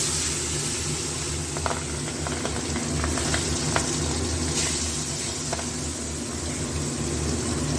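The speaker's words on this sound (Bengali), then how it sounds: "এবার মাছগুলো একে একে ভেজে নেব" Pabda fish sizzling as they fry one by one in plenty of hot oil in a kadai, a steady broadband hiss with occasional faint pops and clinks, continuous and fairly close.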